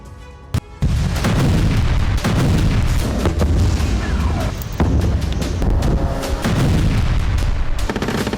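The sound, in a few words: Israeli bombardment explosions in eastern Gaza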